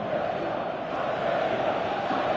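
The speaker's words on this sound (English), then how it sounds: "Crowd appreciates good football all round there" Steady stadium crowd roar from a PS4 football video game, a continuous broad wash of cheering and applause holding at an even, fairly loud level throughout with no talk.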